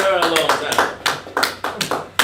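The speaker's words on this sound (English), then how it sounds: "Clap it up" Several sharp hand claps ring out in an uneven rhythm against a busy backdrop of voices, near and fairly loud, at a lively gathering of church or community members calling out to one another.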